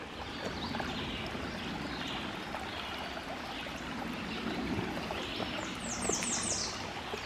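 Water of the Thornton River headwaters rushes and trickles steadily at a stream crossing in Shenandoah National Park. The wash is broad and constant and fairly soft, and a few high chirps come near the end.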